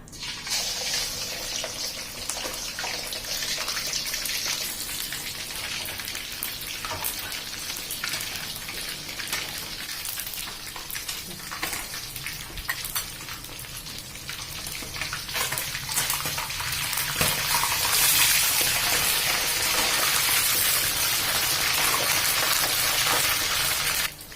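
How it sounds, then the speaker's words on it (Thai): Whole tilapia deep-frying in hot oil for a garlic and pepper dish gives a steady, dense crackling sizzle that runs continuously and grows a little louder toward the end, with no talking. "แล้วก็ตั้งน้ำมันให้เดือดนะคะ เอาปลาลงค่ะ"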